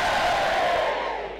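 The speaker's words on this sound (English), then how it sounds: "If you would like Joel to pose, cheer now." A brief, loud burst of crowd cheering and whooping from a tournament audience, swelling together and fading slightly at the end.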